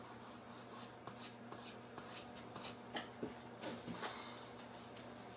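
Pencil sketching a skull drawing on paper, quiet close scratchy strokes and short dashes in irregular bursts against a faint steady hum.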